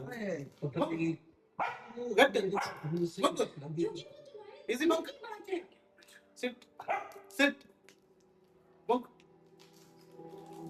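A dog barks in short bursts amid close speech and handling noises, with a few sharper yips standing out between voices.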